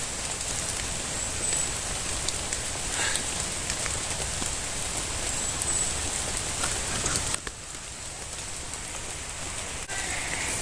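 Steady rain pours down in a constant, dense hiss that fills the whole stretch with no talking, dipping slightly in level near the end.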